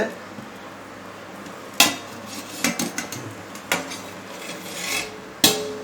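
A pot of prawn dum biryani being opened, with a few sharp metallic clanks and scraping rubs of the lid against the rim, spaced irregularly over a quiet kitchen background.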